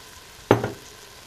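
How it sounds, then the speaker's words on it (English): Meatloaf pasta sauce made with a whole jar of sauce is stirred in an Instant Pot, a single close, wet scrape and slosh lasting a fraction of a second against a quiet background. "Stir that up a little bit."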